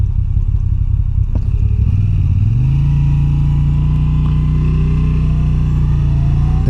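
A 2022 Moto Guzzi V9 Bobber cruiser idles with a low throbbing engine, then pulls away as the revs rise and settle into a steady, loud drone close by.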